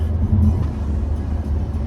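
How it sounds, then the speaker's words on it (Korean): Steady low engine rumble from a BMW car passing on a road, a continuous droning hum with no voices. "아니면 저 BMW 소리"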